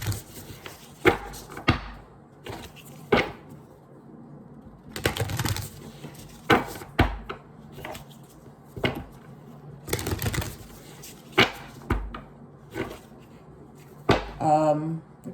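Tarot oracle cards being shuffled by hand, heard as repeated bursts of riffling and slapping about every second or two, close and fairly loud, with a brief higher fluttering sound near the end.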